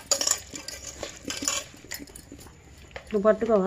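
A spoon scrapes and clinks against a pot while egg biryani masala with potato, tomato and mint is stirred, intermittent close metallic taps, with someone speaking briefly near the end.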